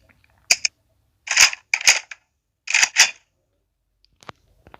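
Gun mod for Minecraft Pocket Edition fires several crisp, sharp shots in short bursts, some doubled in quick succession, with silent gaps between and a few faint clicks at the end.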